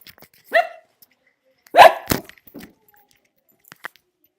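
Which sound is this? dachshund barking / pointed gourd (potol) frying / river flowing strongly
dachshund barking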